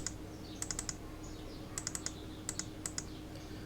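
Mouse clicks while editing a schematic in Proteus, heard as quick paired clicks in several close bursts, crisp and near over a quiet room hum.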